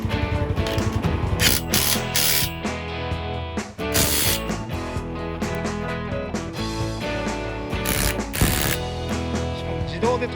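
A Makita 40V cordless impact driver (TD001G) hammering bolts in bolt mode, loud rapid ratcheting bursts close up that stop and restart several times, each burst cutting off abruptly.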